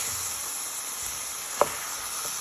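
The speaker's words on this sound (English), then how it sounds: "Now you want to place the rest of your cauliflower in with your sauce. Just give them a little bit of stir in" Cauliflower is stirred into sauce in a hot pan, giving a soft, steady sizzle and hiss with a single faint clink of the spoon, quiet and close with no talk.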